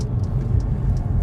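A Mercedes C63 cruises at about 70 mph, its engine giving a steady, low rumble from inside the car over a short stretch.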